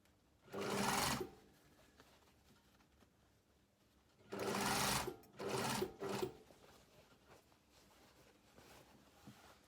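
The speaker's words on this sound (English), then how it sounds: "sew along that line that you've drawn" A sewing machine stitching blazer fabric runs in three separate bursts, one short run near the start and two back-to-back runs later, each a steady whirring buzz with quiet pauses between.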